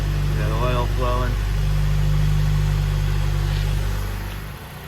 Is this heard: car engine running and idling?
yes